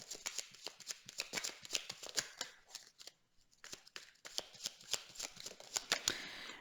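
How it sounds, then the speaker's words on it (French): A deck of tarot cards is shuffled close by in quick bursts of crisp riffling flutters, with a short pause midway before the shuffling resumes, no talk. "J'ai tiré encore une carte."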